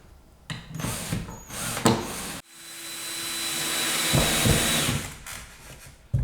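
Power drill driving a screw through drywall into wood backing, a steady whining motor run lasting a few seconds close by, with brief tool noises before and after.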